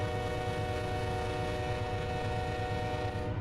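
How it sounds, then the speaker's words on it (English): A freight locomotive horn in Run8 Train Simulator, one loud, sustained multi-tone blast holding steady throughout over a low rumble of the train. "Hopefully you can hear the horn."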